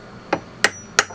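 A chisel on a sailboat is struck three times in quick, evenly spaced blows, each a sharp, close, metallic crack over quiet background.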